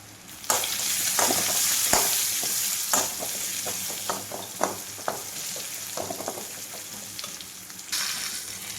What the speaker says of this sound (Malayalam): ഇതും കൂടി ചേർത്തിട്ട് നമുക്കിത് നന്നായിട്ടൊന്ന് മൂപ്പിച്ചെടുക്കണം